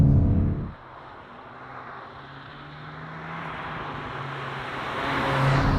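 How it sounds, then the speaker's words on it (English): A 2021 Volkswagen Golf GTI Clubsport hot hatch engine drones steadily, then rises in pitch as it accelerates in second gear, heard from inside the cabin with rumbling road noise. "bring it down into second gear, put my foot on the accelerator"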